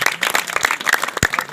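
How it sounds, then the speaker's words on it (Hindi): Audience clapping hands at a devotional magic show honoring Mata Vaishno Devi, a dense, loud burst of many hands clapping continuously with sharp individual slaps over a crowd. "बजाओ ताली सब लोग।"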